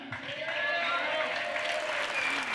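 A big crowd at a live country radio jamboree cheers and applauds, a dense, steady wash of clapping and whoops that fills the room from start to finish.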